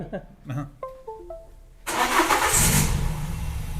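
A Renault Clio RSI with a swapped F4R engine cranks briefly, then catches and bursts into a loud, steady running roar that holds to the end, following a few short voices and beeps at the start.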